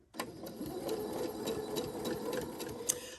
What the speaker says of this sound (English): Now I'm going to sew these 4, chaining them together